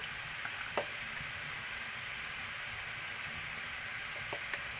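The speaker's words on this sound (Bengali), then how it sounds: "এখন মাংসটা রান্না করা হচ্ছে।" Meat curry frying in a pan, a steady soft sizzle with occasional stirring clicks and scrapes, close and continuous without talk.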